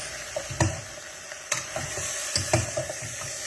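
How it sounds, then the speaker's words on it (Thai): Chicken sizzles steadily as it stir-fries in a hot pan, with a few sharp scraping and clanking strokes of a utensil stirring it. "เราคั่วไก่ได้สักพักแล้วนะคะ"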